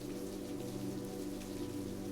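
Steady rain falls on wet cobblestone streets on a rainy night, a soft, even hiss of drops with a low hum beneath, continuous and without voices.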